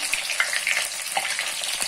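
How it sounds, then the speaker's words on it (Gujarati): Small slit onions fry in hot oil with a dense, crackling sizzle, bright and continuous with little pops, close by and with no voices. "આ નાની એવી ડુંગળી લીધેલી છે એને પણ કાપા મારેલા છે એને આપણે એક મિનિટ માટે તળી લઈશું"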